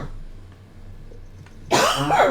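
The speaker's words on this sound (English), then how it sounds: "I'm gonna be a coughing mess." A single loud, harsh cough bursts out near the end after a quiet stretch of faint room noise, close to the microphone, with no speech.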